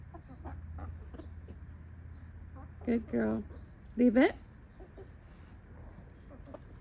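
Chickens at a neighbor's place clucking in two short, fairly close bursts, while a person speaks briefly to a dog.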